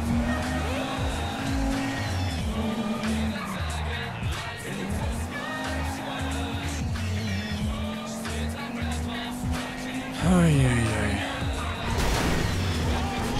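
A car driven in GTA 5 whines along steadily with a sustained engine tone that rises and dips as it shifts, then tires squeal near the end, loud and close, with a voice talking faintly underneath.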